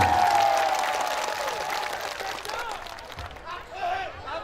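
A crowd at an Islamic religious gathering greets the arriving preacher with applause and scattered cheering, the clapping fading gradually while voices and a faint tonal sound drift over it.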